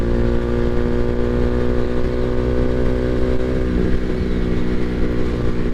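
A motorcycle fitted with a Leo Vince exhaust and an aftermarket tune idles with a steady, throaty rumble, close and loud throughout, its tone shifting slightly near the end.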